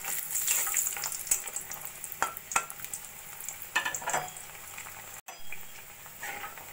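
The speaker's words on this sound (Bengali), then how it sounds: "ওই তেলের মধ্যেই এবার আমি কটা বড়ি ভেজে নেব।" Bengali lentil dumplings (bori) frying in oil left over from frying fish: a soft, continuous sizzle with bubbling crackle and intermittent stirring clicks and taps, fairly quiet and without speech.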